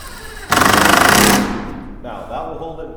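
A power drill whirs loudly for about a second with a rapid rattling pulse as it drives a screw into a chair, then winds down, followed by quieter handling noise.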